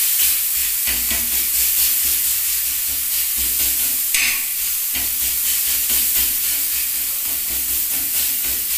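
Boiled potato filling for Bengali singara is stirred and sautéed in oil in a home kitchen, producing a soft, steady sizzle and hiss broken by repeated scraping strokes of the spoon, with no one talking.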